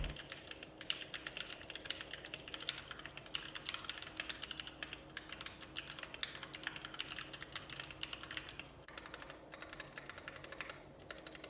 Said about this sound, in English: let's go ahead and get into this typing test.